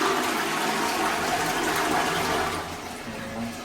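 Tap water runs steadily into a tub in a home bathroom, a continuous close rushing splash that eases slightly toward the end, with no talking.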